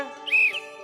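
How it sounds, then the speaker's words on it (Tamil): A whistle is blown once on a kids' TV reality show. It is a short, shrill toot lasting a fraction of a second over a humming background. "உங்களுக்கு கையில வந்து நான் வந்து ஒரு விசில் கொடுத்துருக்கேன்."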